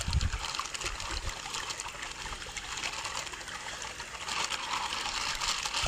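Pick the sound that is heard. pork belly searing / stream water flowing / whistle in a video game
stream water flowing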